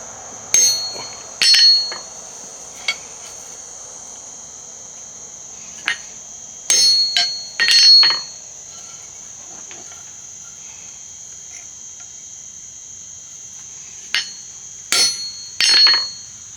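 Sharp metallic hammer blows on a steel fire poker resting on an anvil ring out in short bursts of two to four strikes, separated by quiet pauses, with a steady high ring lingering throughout.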